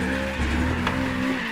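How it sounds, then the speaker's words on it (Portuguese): A Toyota Trueno AE86 fitted with a turbo drifts in the Apex Point racing game, its tires giving a steady, loud squeal over the engine's humming drone for a moment. "E agora dá pra fazer um drift"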